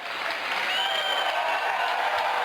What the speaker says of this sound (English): Clap. We got to hear you.